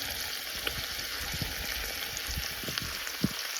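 Chopped raw mango dropped into a hot pan for Kerala-style pickle, giving a steady soft sizzle with faint crackles and occasional small pops throughout, close by and without any voices.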